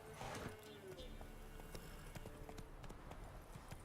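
Roach, the horse in The Witcher 3, runs with faint, steady clip-clop hoofbeats under a low, constant game ambience, and no one speaks.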